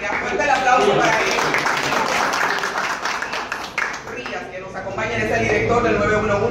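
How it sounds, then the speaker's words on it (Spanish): Applause from a crowd, a dense wash of clapping that holds steady, dips briefly and swells again, with voices mixed into the noise. "Fuerte el aplauso para él."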